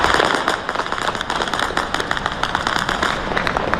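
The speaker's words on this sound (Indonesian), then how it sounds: "rentetan senjata dan ledakan terdengar di berbagai titik kota Erbil" Rapid, continuous bursts of gunfire and explosions ring out across the city of Erbil, Iraq, at night, a dense stream of sharp, loud cracks and pops with no let-up.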